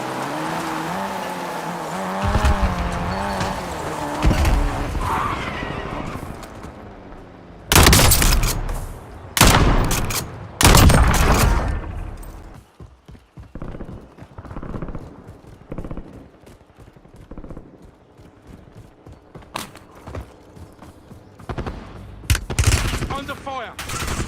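Gunfire in the video game Warzone comes as loud bursts of rapid automatic shots and single cracks, scattered across the clip between quieter stretches of game ambience, with an in-game voice calling out at the start.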